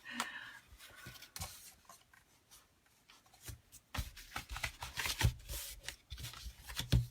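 Paper is folded along score lines while a box bag is made, giving soft close rustling and creasing that builds into busier crinkles and rubs toward the end, quiet and with no talking.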